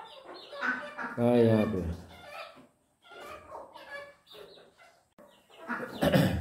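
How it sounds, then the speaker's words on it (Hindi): Chickens of three different breeds at a village in Uttar Pradesh, a drawn-out clucking call up close mixed among a man's conversational speech, with quieter bird sounds in the pauses. "ये वाली मुर्गी है, तो ये तीनों अलग है।"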